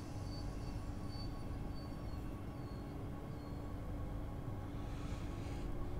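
A train in Train Sim World 2 pulls away from a stop, a continuous dense rumble of engine and rolling wheels with a faint high whine, steady and loud throughout with no voices.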